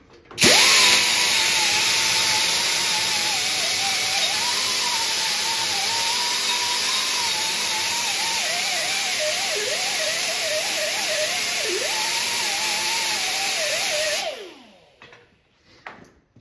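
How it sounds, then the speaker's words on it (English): A grinding disc whirs loudly and steadily against metal, deburring the back of drilled holes, for about fourteen seconds, its pitch wavering under load, then winds down and stops. "take my little disc here and knock down the burrs on the backside from drilling it"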